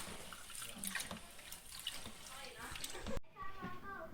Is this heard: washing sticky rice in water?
yes